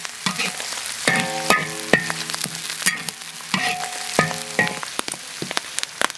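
Pickled mustard greens (suancai) stir-fried in a hot wok with steady sizzling and crackling, a spatula scraping and clanking against the metal in repeated strokes; close and fairly loud, with no talk.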